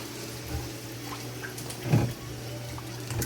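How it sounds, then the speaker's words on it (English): Running water from a kitchen sink tap splashes softly as tomatoes are washed under it. The sound is quiet and continuous, with one brief louder splash partway through, and no voices over it. "Grandma's washing the tomatoes over here in the sink"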